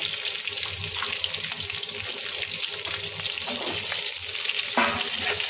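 Onion and capsicum frying in white oil, a loud dense sizzle that crackles steadily and close throughout, with occasional stirring scrapes and no speech.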